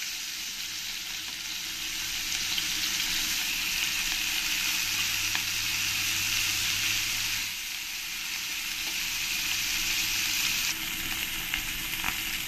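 Shol fish (snakehead) fries in hot oil with a steady, loud broadband sizzle that swells and eases slightly across the stretch, with no voices.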